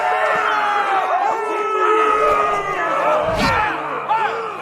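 Loud arena crowd in a Game of Thrones video game roaring and cheering continuously, with layered shouts and whoops rising and falling and a brief thump near the end.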